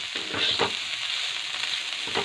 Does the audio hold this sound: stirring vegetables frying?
yes